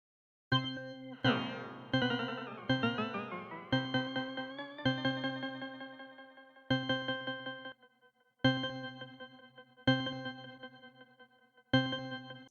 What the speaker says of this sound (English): Let's add a Valhalla frequency echo, which is a really cool echo that's free